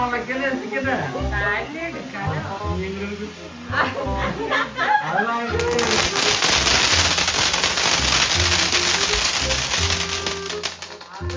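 People talk and laugh at first, then a Vishu festival firecracker erupts into loud, sustained crackling and fizzing that runs to the end.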